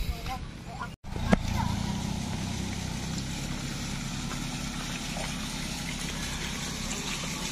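The Citameng river flowing as a steady, broad rush of water that runs throughout, with an engine-like rumble underneath and a brief dropout and knock near the start.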